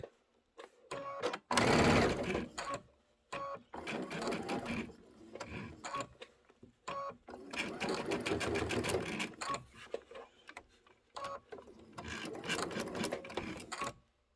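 A sewing machine runs without thread in short bursts of rapid mechanical stitching, several stops and restarts, close and fairly loud, with no talk over it.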